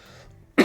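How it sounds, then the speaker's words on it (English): A single loud cough bursts out near the end of a short stretch of quiet, close-miked and abrupt, from a person suffering a coughing fit. "I get a coughing fit."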